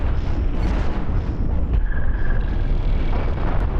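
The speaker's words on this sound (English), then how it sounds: "So that's what an EMP missile looks like." A heavy, continuous rumbling explosion from an EMP missile in the space game Cosmoteer, loud and dense with low booming texture throughout.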